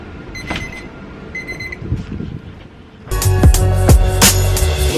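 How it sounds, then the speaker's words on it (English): A kitchen timer alarm beeps in repeated short bursts, thin and bright, before a louder clattering, rumbling burst of household noise takes over. "Timer's off."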